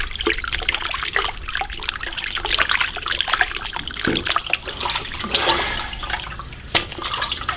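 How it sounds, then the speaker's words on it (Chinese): Pork ribs rinsed under running tap water, a steady close trickle and splash with scattered sharper knocks and sloshes as the meat is handled, continuing throughout with no talking. "排骨洗呀！"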